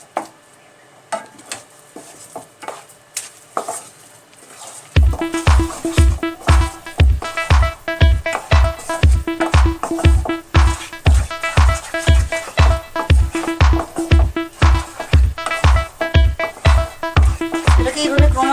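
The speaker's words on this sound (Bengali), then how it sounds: "এটাকে এইভাবে ক্রমাগত নাড়তে থাকতে হবে।" A spoon scrapes and stirs a chocolate sondesh mixture in a pan over low heat. After a few quiet clinks, loud rhythmic strokes repeat steadily and evenly, close up.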